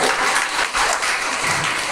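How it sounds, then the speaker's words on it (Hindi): Loud, dense applause from a seminar audience at a self-defence training session in Ankleshwar, steady crowd clapping filling the whole moment with no voices on top. "एक बार ताली बजाइए जोरदार।"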